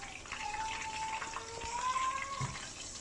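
Fish frying in a pan gives a steady, moderately loud hiss and crackle of hot oil, with thin tonal whines drifting over it.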